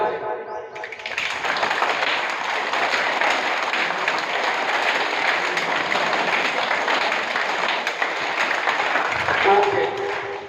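A school audience in Pilani, Rajasthan claps with raised hands, producing sustained dense applause that lasts nearly the whole time, with a voice briefly audible at the end.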